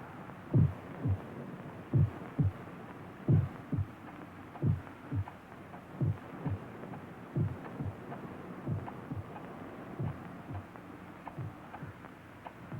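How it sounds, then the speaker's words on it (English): Muffled heartbeat in a steady double-thump rhythm, low and deep, repeating about every 1.3 seconds with a soft hum beneath and no voices. "the heart beat on with a muffled sound"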